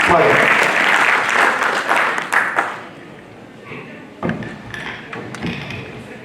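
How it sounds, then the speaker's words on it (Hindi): Loud applause from an audience greeting an honoured guest at a National Youth Parliament event at Hansraj College, Delhi University, dense clapping that fades after about three seconds, then scattered claps and some talk. "एक बार जोरदार तालियों के साथ, पैदल भर के साथ आदरणीय का अभिनंदन करें"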